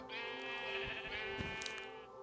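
A sheep in Minecraft bleats in a long, wavering, nasal cry, clear and alone with no talk.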